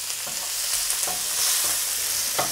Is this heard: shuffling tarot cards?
no